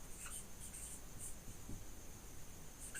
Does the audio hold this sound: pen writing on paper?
yes